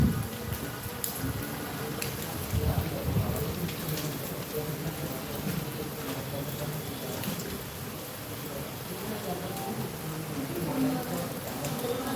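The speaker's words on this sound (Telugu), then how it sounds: "చాలా వర్షం పడుతున్నది" Heavy rain pours down at night in Siddipet, a dense continuous hiss with scattered drips; no distinct thunder stands out.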